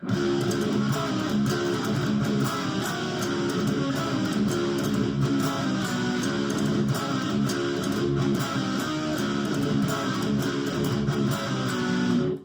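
A dense, driving electric guitar riff played with rapid tremolo picking, loud and steady throughout with no voices.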